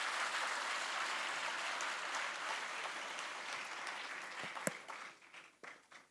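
An audience applauds students at a 2024-2025 opening ceremony, a dense wash of clapping that holds steady and then thins out and fades into scattered claps.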